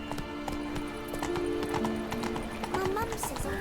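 Roach, the horse from the game The Witcher 3, gallops with steady, rhythmic hoofbeats, close and fairly loud, under voices talking, with a brief whinny near the end.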